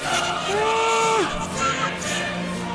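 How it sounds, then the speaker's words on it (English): Crowd at an Italy versus Scotland rugby match sings the Italian national anthem, a sustained, distant mass of voices with a clear sung melody line rising above stadium noise. "The Italian national anthem"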